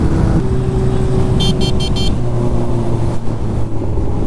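A Kawasaki Ninja H2 motorcycle accelerates hard on a quarter-mile launch, a loud, sustained engine roar with shifting tones as it climbs through the run, with no voices.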